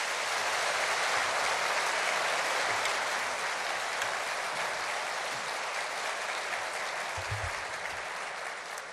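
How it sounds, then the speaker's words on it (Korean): A church congregation at a revival service applauds to welcome the pastor, a dense, sustained wash of clapping that fills the room and tapers slightly toward the end. "나오실 때 다시 한번 우리 박수로 환영하겠습니다"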